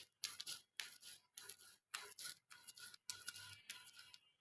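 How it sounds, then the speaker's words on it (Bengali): Roasted, washed peanuts are ground into a paste by hand, giving a rhythmic series of about seven short scraping, rasping strokes, close and fairly quiet with brief pauses between. "এই যে দেখতেছেন বাদামগুলো এখন বেটে নিতেছে।"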